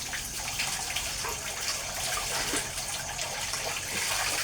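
Steady running water gushing continuously, as from a tap or hose used for washing laundry on a farm in the Philippines, loud and close with no talk.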